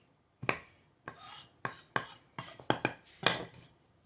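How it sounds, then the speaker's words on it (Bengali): A knife chops broccoli on a cutting board in a home kitchen. About eight crisp, close strokes land at an uneven pace with short pauses between them, and no one speaks. "তো চলো, আমি কোনটাকে কেমনভাবে কাটছি তোমাদের সাথে অবশ্যই শেয়ার করব"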